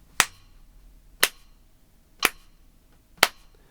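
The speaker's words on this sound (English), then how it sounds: "Whereas when I clap," Four sharp hand claps, evenly spaced about one second apart, close and crisp with quiet gaps between them and no talking.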